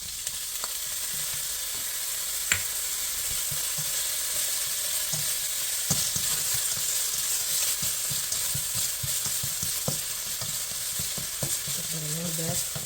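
Ginger sizzling in olive oil, a constant loud hiss with scattered crackles and occasional clinks of a utensil, with no voices.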